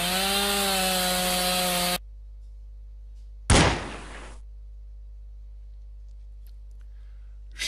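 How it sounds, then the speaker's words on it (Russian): In a cartoon, a zombie's chainsaw gives a loud, steady buzzing whine for about two seconds, then cuts out. A short, harsh, noisy burst follows, then a low quiet hum. "Почему зомби с бензопилой отрубил мне руку?"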